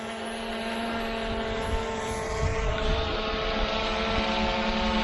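A FIMI X8 SE drone hovers close by while coming down onto a landing pad, a loud steady propeller whine with layered tonal hum that swells slightly midway, with no talking.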